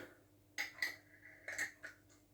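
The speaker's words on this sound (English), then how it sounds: "pop the lid on and screw it down" Metal lid being screwed down onto a glass jar of hot pickled onions: a few short scraping, clicking twists spaced about a second apart, close and fairly quiet.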